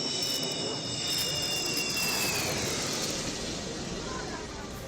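Fighter jets, Sukhoi and Jaguar, roar over a highway emergency landing strip, a loud continuous jet engine rush with whining tones that slowly fade while a voice talks over it.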